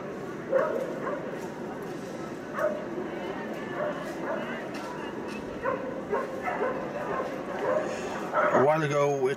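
Dogs yip, whimper and bark intermittently at an animal rights protest in Maastricht, heard amid steady crowd murmur and voices, with a clearer voice speaking near the end.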